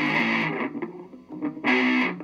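Electric guitar plays a riff with heavy distortion and wah, loud sustained notes in two bursts separated by a brief quieter gap.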